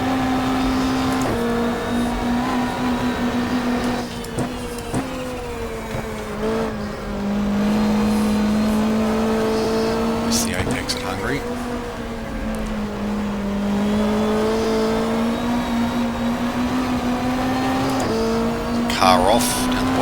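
Super touring race cars lap Lakeside in a 1995 championship race, engines droning steadily with pitch rising and falling as they pass and change gear, a commentator talking over the continuous motor noise.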